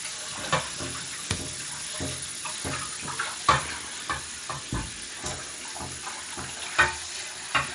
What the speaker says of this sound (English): I'm washing the bowl that we did our mixing in to put the prepared dough in to rise.